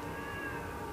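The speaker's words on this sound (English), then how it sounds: "There was a cat meow just now." A cat meows inside the video game Watch Dogs, a faint mewing nearly lost under steady game ambience and low background noise.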